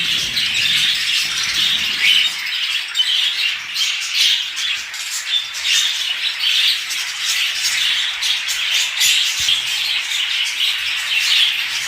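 Fancy birds in a cage chirp and squawk nonstop, a dense, loud chorus of high tweets with soft wing flutters mixed in and no talking.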